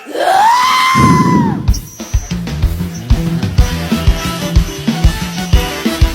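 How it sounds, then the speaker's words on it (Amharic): A long high trilling ululation rings out, then a crowd breaks into rapid, irregular clapping that continues to the end. "እልልታ ጭብጨባ"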